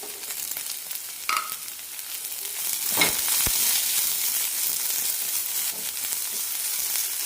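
Chopped onions sauté in hot oil in a pan while a kurma is being cooked, giving a steady soft sizzle throughout with a few scraping stirs partway through.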